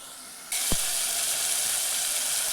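Tomatoes sautéing in a pan with salt and turmeric give a steady, close sizzle that starts abruptly and holds at an even level, with one brief low knock near the start.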